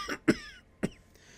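An elderly man coughs three times in short, harsh bursts, close and clear with brief pauses between each cough.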